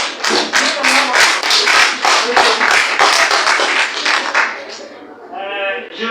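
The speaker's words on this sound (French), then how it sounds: "Il faut quand même que je vous applaudisse." A small audience claps together at a workshop, giving a brisk run of roughly a dozen fairly close claps that fades out, then a voice starts speaking.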